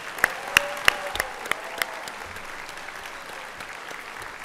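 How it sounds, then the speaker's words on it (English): Applause at the Crystal Apple Awards evening show in Salem-Keizer, with six sharp, evenly spaced claps close by over a faint crowd clapping, then tapering into a quiet hall murmur. "would you please do a huge round of applause for our business community?"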